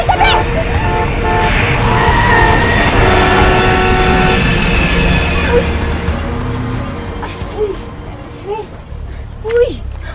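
A car approaching on a road during a scene where an airplane crashes nearby: a loud, sustained roaring rumble with droning tones that gradually eases, with brief vocal sounds near the end.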